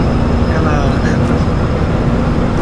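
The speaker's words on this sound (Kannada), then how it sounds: "ಫ್ಲೈಟ್ ಟೇಕ್ ಆಫ್ ಆಗ್ತದೆ." Loud, steady jet engine roar heard from inside the cabin during takeoff, a dense continuous rumble with a faint whine, no other sounds standing out.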